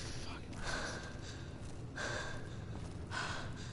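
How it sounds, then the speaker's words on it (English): Heavy breathing from a character in the video game Beyond Two Souls comes as three faint, evenly spaced breathy gasps against a quiet background. "I can only take so much of somebody's heavy and cold breathing."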